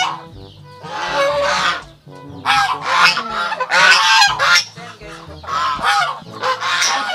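Several farm geese honking loudly and repeatedly nearby in the rural Philippines, their harsh calls overlapping in bursts with brief pauses between.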